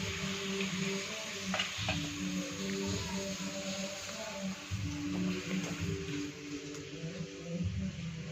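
Ghee heating in a pan for a potato and radish pod dish gives a steady, faint low sizzle and crackle that runs continuously, with a low background hum and no speech.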